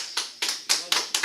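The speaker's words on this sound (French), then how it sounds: "Il mérite l'applaudissement, oui." Scattered clapping from an audience at a meeting of Tunisian associations in France, heard as five separate, crisp claps spaced about a quarter second apart, close and fairly quiet, with nothing else around them.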